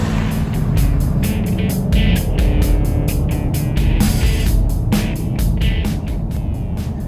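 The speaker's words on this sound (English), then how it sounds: "dominant feature of the driving experience is this 5-litre V8 engine" A loud Ford Mustang 5-litre V8 engine drones steadily throughout, a deep rumble with repeated sharp clicks and ticks layered over it, recorded up close.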